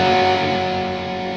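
A sustained, buzzy electric guitar tone through the distortion channel of a Landry LS50G3 amp rings out alone, steady and fairly loud, slowly fading.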